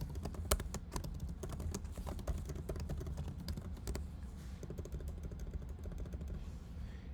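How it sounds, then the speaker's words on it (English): Fast, light key clicks from a computer keyboard as a name is typed into a web form, a steady run of taps at close range with no talking. "Type in my name."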